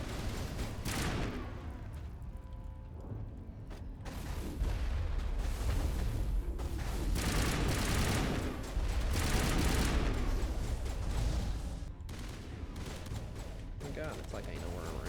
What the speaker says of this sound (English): Goddamn explosive rounds are gross